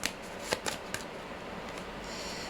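Tarot cards shuffled and drawn from a deck, heard as a few soft, quick riffling flicks and slides close by, quiet and without talk.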